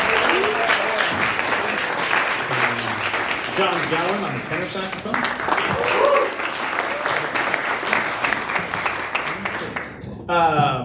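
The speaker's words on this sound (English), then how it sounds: "Can we give a round of applause for Atticus on the piano?" Jazz audience at the Shack applauds the band's pianist, a dense, steady wash of clapping that runs almost the whole way, with a voice announcing over it near the end.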